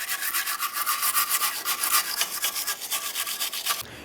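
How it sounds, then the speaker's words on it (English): A stiff brush scrubs the brake area of a 2006-10 Ford Explorer in rapid back-and-forth strokes, a close, bright scratchy rasp pulsing rhythmically for several seconds, then stopping abruptly, with no speech. "Now let's go ahead and use a nice brush."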